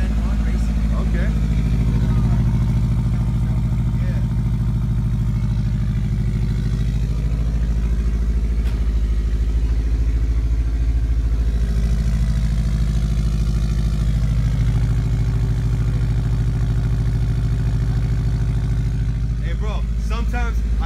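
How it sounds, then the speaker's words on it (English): A Subaru's aftermarket exhaust rumbles steadily at idle with a deep, loud low-end drone throughout, while people talk over it now and then. "Nice little rumble to it."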